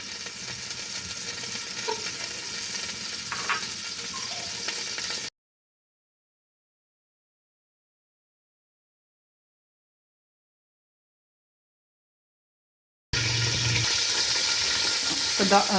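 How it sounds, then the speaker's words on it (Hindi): Chopped almonds and pistachios roasting in a hot pan for mutanjan rice give a steady sizzle and stir, broken by a long stretch of silence before the frying resumes. "इसमें डालूंगी मैं बादाम और पिस्ता कटा हुआ, इसे थोड़ा सा रोस्ट कर लेते हैं"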